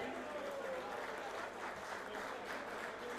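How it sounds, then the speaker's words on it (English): An audience at a cricket tournament ceremony breaks into steady applause, a continuous wash of many hands clapping through the whole stretch, heard from a slight distance with a faint murmur of voices underneath. "Let's have a big round of applause for all of them."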